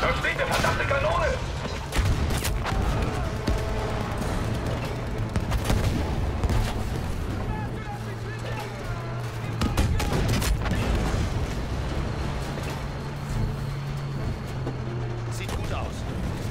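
Battlefield V combat on PC with an AMD Ryzen 5 processor, bursts of machine gun fire and scattered shots crackling through a busy battle mix alongside engine rumble, while soldiers shout in German over the gunfire.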